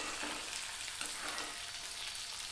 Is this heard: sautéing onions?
yes